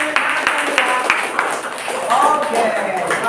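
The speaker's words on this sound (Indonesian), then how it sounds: "Berikan tepuk tangan" A classroom of students claps hands in a loose, uneven patter with a few sharp, distinct claps. Voices murmur through it and carry on talking underneath.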